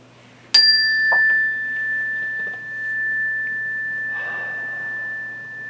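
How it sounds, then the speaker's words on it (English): A single mindfulness bell is struck once near the start, then its clear tone rings on and slowly fades, alone in a quiet room. "Ding of the bell."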